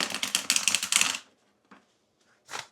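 A thick, chunky oracle deck is shuffled by hand in a rapid rattling burst of card flicks for about a second, followed by a pause and two brief soft card taps, close up and without speech.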